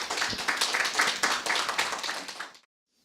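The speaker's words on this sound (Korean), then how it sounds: "박수로 모셔주십시오." An audience at a rice-themed open forum claps to welcome a presenter, a brisk burst of clapping that stops abruptly, leaving near silence.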